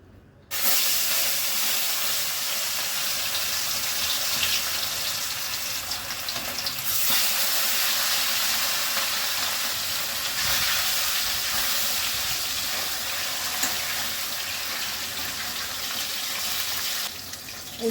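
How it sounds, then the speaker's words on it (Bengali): Pieces of rohu fish fry in hot oil, a loud continuous sizzle and hiss that holds steady for most of the stretch, close and unbroken, with no talk over it. "প্রথমেই আমি মাছগুলো ভেজে নিচ্ছি।"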